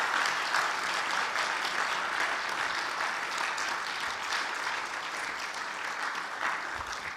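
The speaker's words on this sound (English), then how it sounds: "we'd like to just all give a big round of applause for his wonderful insights." Steady, moderately loud applause rolls through a temple hall after a spiritual discourse by Maharaj, continuing evenly for several seconds with no talking.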